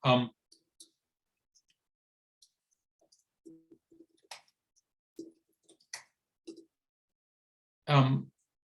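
A computer mouse clicks while text is cut and pasted, a few sparse, quiet clicks scattered through near silence, with brief bursts of voice at the start and end.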